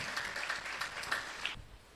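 Church congregation clapping together at a New Year service, a dense wash of hands for about a second and a half before it cuts off abruptly.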